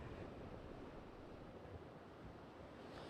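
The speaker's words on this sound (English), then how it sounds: "What we're seeing, or rather feeling, is the wind gust here along the coast" Strong coastal wind and rough surf as Hurricane Delta comes ashore at Seabrook on the Texas coast: a steady, loud roar of gusting wind and crashing waves with buffeting microphone rumble, no voices.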